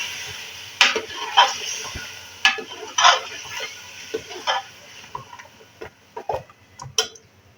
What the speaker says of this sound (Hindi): और इसको मिक्स करेंगे।